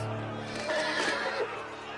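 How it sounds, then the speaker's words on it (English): A horse in a Game of Thrones video game whinnies in a short, shaky neigh over a busy background of noise and faint voices. "Forget Roderick, is the horse okay?"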